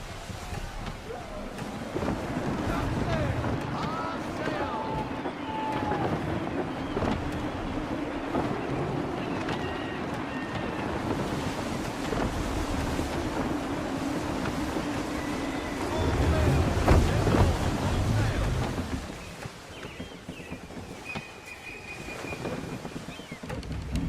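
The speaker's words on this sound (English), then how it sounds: "Wind looks to be shifting. Stay alert, Connor. Gusty winds can be difficult to manage." Gusty wind and rushing waves surround a sailing ship at sea in Assassin's Creed 3, a steady broadband roar that swells and eases, with a voice speaking over it in places.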